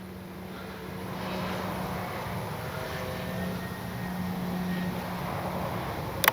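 A CNHL Super Tucano RC plane with its landing gear down passes in a crosswind, giving off a steady propeller drone and motor hum. The sound swells gently and fades at moderate distance, and a brief clatter comes at the very end.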